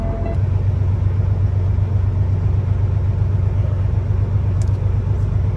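A truck engine runs at raised idle around 1,000 RPM to build air brake pressure, a loud, steady low rumble held without change from start to finish.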